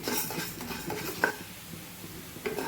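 Urad dal is dry roasted in a pan without oil, heard as close, steady stirring and scraping with light metallic clinks and rattling grains.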